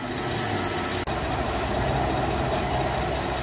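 A car engine idles steadily while transmission fluid warms up during an automatic transmission service, a constant close mechanical hum with no change in pitch and one brief dropout.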